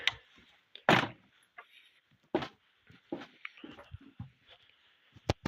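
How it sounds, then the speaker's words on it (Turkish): A door opens with a few sharp knocks and clunks, close by in a quiet space, followed by softer rattles and thuds. "şu kapıyı açayım"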